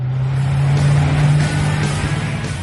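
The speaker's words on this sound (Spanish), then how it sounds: "Cuando pones en marcha el motor, evidentemente la cabina se inunda con el sonido del motor." A Koenigsegg Agera's twin-turbo 5-litre V8 idles loudly inside the cabin, a deep steady rumble that holds with no speech over it.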